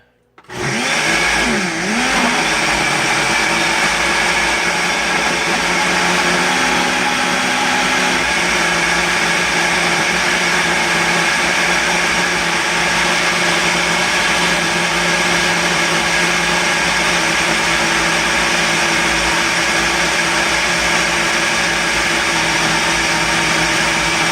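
A Vitamix blender spins up from a brief quiet start into a loud, steady, motor-heavy roar that holds without a break, churning a pineapple smoothie.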